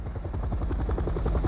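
A helicopter in Resident Evil 7 thuds steadily with fast, even rotor chops over a low engine rumble, loud and continuous throughout.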